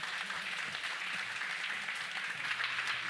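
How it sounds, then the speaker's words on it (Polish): Applause from a congress audience rewarding the organising team: a steady, faint roomful of many hands clapping, continuous and evenly sustained with no speech over it. "Myślę, że naprawdę należą wam się wielkie brawa."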